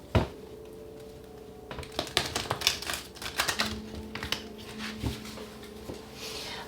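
A deck of tarot cards is shuffled by hand, giving quick bursts of crisp, clicky riffling and flicking that come in uneven clusters, close up and fairly loud against a quiet room.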